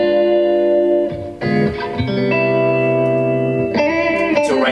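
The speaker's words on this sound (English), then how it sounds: "You hear that little bit of shimmer, it's in the background." Sustained electric guitar chords of a jazz standard, drenched in a bright shimmer reverb effect that swells and lingers between chord changes, with a few strums cutting through.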